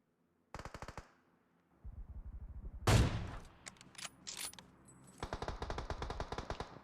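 Gunshots in the mobile battle royale game BGMI: a quick burst of automatic fire, a steady rattling run, one sharp loud blast, then scattered shots and another fast burst, all close and loud.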